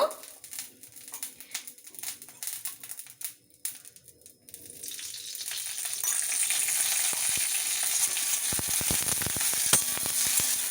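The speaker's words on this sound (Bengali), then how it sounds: "যখন দেখবে কারি পাতাটা বেশ ভালো করে ভাজা হয়ে গেল" Curry leaves fry in hot oil for a dahi curry, a soft crackle that swells into a steady, loud sizzle in the second half, with no voices.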